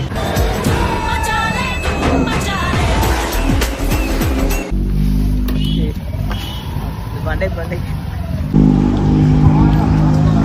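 Vehicle started and driven, its engine revving and accelerating loudly, with voices overlapping and abrupt shifts in the sound partway through.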